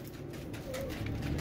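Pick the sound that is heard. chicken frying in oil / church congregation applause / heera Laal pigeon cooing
heera Laal pigeon cooing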